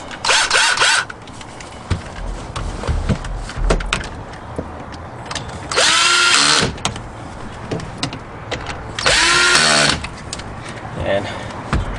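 Power wrench driving the screws of a 2014 Mustang radio display (FDIM) screen, three short, loud whirring bursts separated by pauses, with a person talking between them and light handling clatter.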